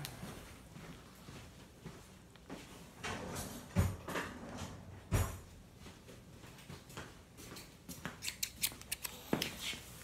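Scissors snip repeatedly at close range, cutting the packaging of skateboard trucks, with crisp cuts and rustling packaging between them, growing quicker and busier toward the end.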